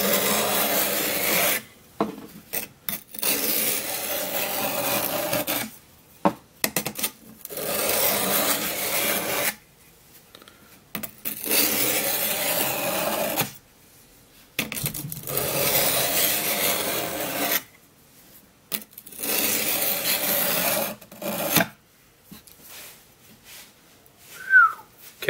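Steel blade stroked across a soft stone on an Apocabox bench sharpener, steady close rasping passes in repeated bursts separated by short silent pauses, no talking.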